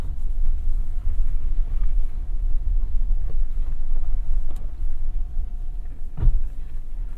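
A 2023 Toyota RAV4 Hybrid Woodland Edition driving slowly on a hilly dirt trail, a steady low rumble of tires and cabin noise with occasional bumps and knocks.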